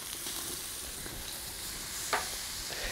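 Teriyaki chicken sizzling on a hot plate over a fire as it is basted and flipped, a steady close hiss with a sharp scrape and crackle as the piece turns.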